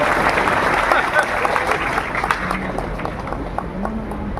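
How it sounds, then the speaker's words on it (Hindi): Audience clapping at a public event with a central minister as chief guest; scattered, moderately loud applause runs throughout under a speaker's voice on a microphone. "जरा तालियां बजाओ तो ठीक से बजाओ,"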